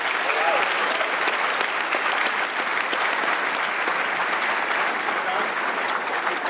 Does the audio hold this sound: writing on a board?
no